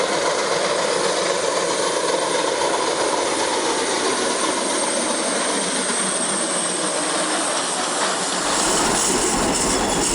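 Sierra Railroad's number 2, a Shay steam locomotive, runs along near Highway 49 with a loud, continuous rolling rumble and hiss of a passing train that holds steady throughout, with no voices.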